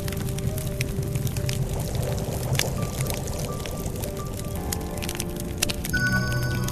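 Hot water poured for tea, a soft steady trickling pour with faint cracks and clinks in a quiet room, fairly close and low in level.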